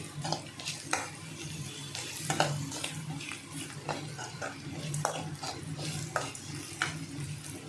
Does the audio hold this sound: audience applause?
no